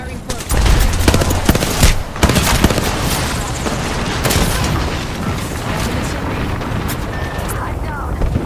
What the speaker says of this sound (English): Taking fire! I cracked an enemy shield. Reloading. Grenade out. Frag out.